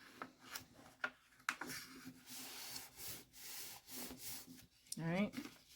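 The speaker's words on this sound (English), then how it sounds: "you're going to take this first flap and you're going to fold back" Paper flaps are creased and folded for an origami fish, giving close, soft rubbing and rustling strokes in short bursts, with a brief voice at the end.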